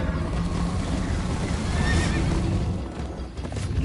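Horse in the Minecraft Story Mode video game neighs loudly over steady, close galloping clip-clop hoofbeats, with a rumbling chase backdrop and no talk.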